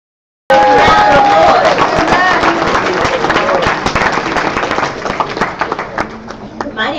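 Loud, close applause bursts in after a brief silence at a youth-led tech graduation ceremony, a thick roar of many hands with crowd noise that thins and softens slightly toward the end.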